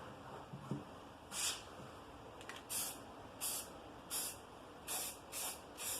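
Rust-Oleum spray paint hisses from an aerosol can in a shop while a drill sharpener is repainted, with about seven short, evenly spaced bursts, each around half a second long, standing out against quiet background noise.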